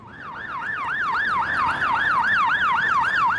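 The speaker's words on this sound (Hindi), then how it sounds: "बस हम इस वीडियो में एम्बुलेंस के सायरन की आवाज लगा रहे हैं" An ambulance siren wails in a steady, continuous rising-and-falling cycle, loud and close, with no other sounds.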